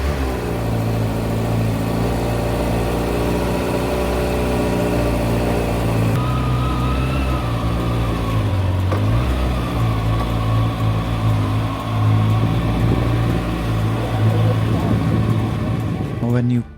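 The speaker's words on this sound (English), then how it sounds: "When you cold start the engine, it revs around 2000 to 2500 rpm and gradually settles down around 1200 or 1300 rpm" A Kawasaki ZX6R motorcycle engine idles after a cold start on a rainy morning in Bengaluru, a steady, close, continuous mid-pitched hum that holds for the whole stretch with slight variations in revs.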